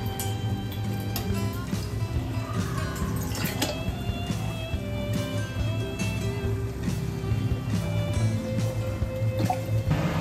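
Water trickles and drips onto a metal plate resting on a pot of chicken masala, with splashy patters and occasional clinks over a low steady hum.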